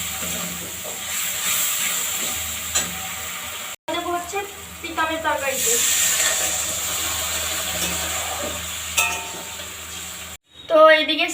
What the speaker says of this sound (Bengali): এখন জল দেবো তরকারিতে, সয়াবিনে একটু জল দিয়ে দিলাম।